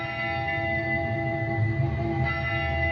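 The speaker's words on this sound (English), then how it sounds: "So I wanted to incorporate this idea of a wedding bell." A descending, auto-tuned wedding-bell tone inside a song, heard as steady sustained pitched tones layered over a low musical bed for a few seconds, with no one speaking.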